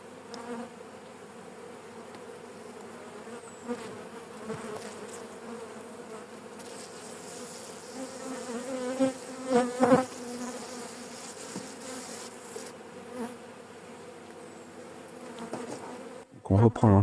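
Honey bees buzz at an open hive during an inspection, a dense steady drone with individual bees flying close past the microphone, swelling louder at moments, with a brief knock at the end.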